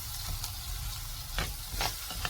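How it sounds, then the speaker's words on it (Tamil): Onions sautéing in a pan for mushroom gravy, a soft continuous sizzle with a few sharp stirring scrapes of the spatula against the pan, close and fairly quiet. "இன்னும் ஒரு 2 செகண்ட் வதக்கலாங்க, இன்னும் கொஞ்சம் வதக்கலாம்"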